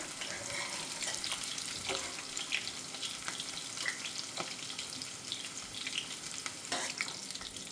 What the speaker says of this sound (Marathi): हे सगळे बटाटे झालेले आहेत सोनेरी रंगावर तळून